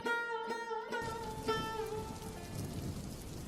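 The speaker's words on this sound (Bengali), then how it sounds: "এখন তো বৃষ্টি হচ্ছে" Rain falling steadily on a surface, a dense continuous patter with brief tonal sounds early on, heard alone without voices.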